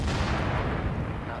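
Explosions and gunfire in a Tom Clancy's The Division gunfight: dense, loud, rumbling booms and bursts overlap through the whole stretch, with talk faintly mixed in.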